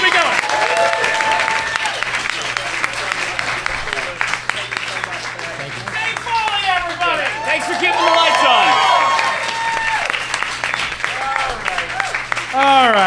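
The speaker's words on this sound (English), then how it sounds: "Give him a giant round of applause." A live podcast audience claps and cheers loudly for a guest, sustained applause with whoops and shouts rising in the middle, while a host's voice talks over the crowd.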